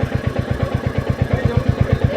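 A motorcycle engine idles up close, a loud, steady low thumping pulse of regular firing beats with a faint mechanical rattle above it, no voices.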